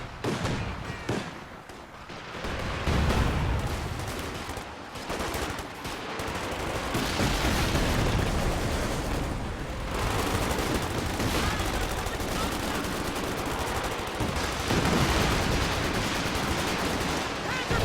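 Machine gun bursts and scattered gunfire crackle through a Company of Heroes 2 battle, rattling repeatedly with distant explosions amid dense, busy game noise for the whole stretch.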